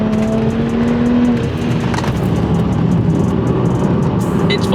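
A BMW 1M drives hard on country roads, its engine loud and sustained from inside the car, with the drone rising and falling through the gears and a faint tyre squeal, no talk.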